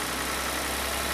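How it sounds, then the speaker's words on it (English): A Ford tractor engine runs steadily at rated speed with no load, a continuous close mechanical drone with no pauses and no voices. "start the engine and run the tractor at its rated speed under no load"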